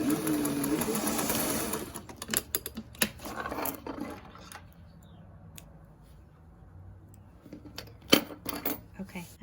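Sewing machine back tacking to close the pocket of a fabric face mask, a short burst of rapid stitching near the start, then quieter handling and a few clicks, with another brief run of stitching toward the end.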